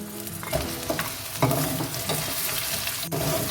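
Onions fry in hot oil for mutton yakhni pulao, a steady close sizzle broken by a few scraping stirs of a spoon against the pot, with no talking.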